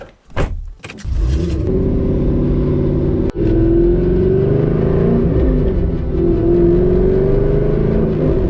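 A Mini car's engine starts after a few sharp knocks, then revs and holds a loud, steady rumble with rising and falling pitch, close up, with no talk.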